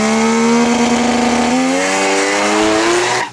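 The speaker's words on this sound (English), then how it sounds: "You can hear that rotary power." A Mazda RX-2 rotary engine launching at a drag strip race, a loud, close, high-revving buzzing wail that rises in pitch and then drops off abruptly at the end.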